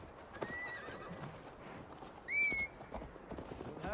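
A horse whinnies briefly midway among steady clip-clopping hooves in the video game Assassin's Creed Valhalla, set in Viking-era England, with quiet background ambience and no talk.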